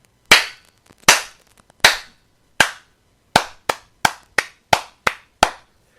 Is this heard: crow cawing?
no